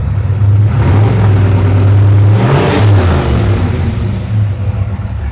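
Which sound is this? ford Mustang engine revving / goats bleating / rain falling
ford Mustang engine revving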